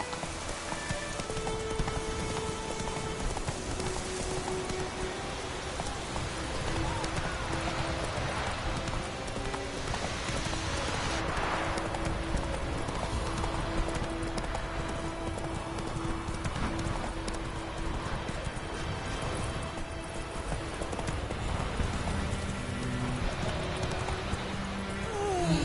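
Roach the horse from The Witcher 3 gallops with steady, rhythmic clip-clop hoofbeats over a rain-like background hiss, continuous and fairly close, with no talking.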